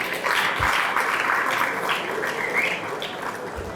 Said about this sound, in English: Another round of applause for Her Excellency